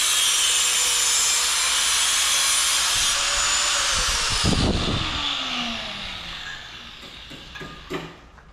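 Steady power-saw cutting through exhaust tubing for a race-ready Thunder Stock car exhaust install, loud and continuous, then winding down with a few scraping and clanking sounds near the end.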